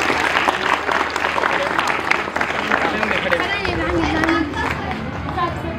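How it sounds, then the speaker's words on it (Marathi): School students at a Teachers' Day assembly applauding loudly, a dense, sustained burst of many hands clapping together, with crowd chatter mixed in throughout. "याच्यासाठी जोरात टाळ्या वाजवा"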